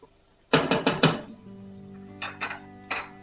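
Onions stirred in a pan with a utensil, a quick run of four or five clanking scrapes against the metal, then a pause and a few lighter taps and scrapes, close and alone.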